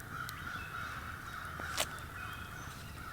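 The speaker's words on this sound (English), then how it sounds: "that's what it sounds like when a hoot owl is calling like that" Out in the woods at a solo ATV campsite, an owl calls its rhythmic hooting "who cooks for you" phrase at a distance, a soft sustained tone over faint night insects and hiss.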